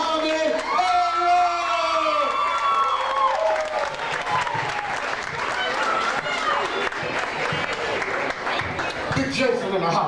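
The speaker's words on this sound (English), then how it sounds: "Give a Soul Fusion round of applause to the one, the only, Mohammed" A lively crowd at a live music and spoken-word event applauds and whoops for a performer being introduced, dense sustained clapping with cheers and a sung or shouted voice carrying over it near the start.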